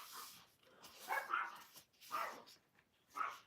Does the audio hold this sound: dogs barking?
yes